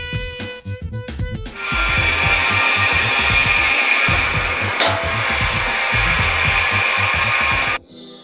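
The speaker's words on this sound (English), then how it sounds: "During cutting, an emulsion is supplied to the saw blade, which cools it down." Metal saw cutting metal with coolant emulsion fed to the blade in a metalworking shop, a loud continuous grinding hiss with rhythmic mechanical thumping beneath, starting after a brief run-up and stopping abruptly near the end.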